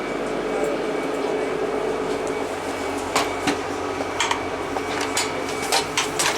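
Steady rumble and broadband rattle of a moving train carriage, with sharp clacks and knocks near the end; no talking.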